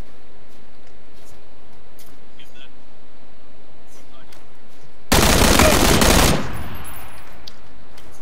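Gunfire in PUBG: a single loud, close burst of rapid automatic shots lasting about a second, breaking a quiet stretch and trailing into a brief echo.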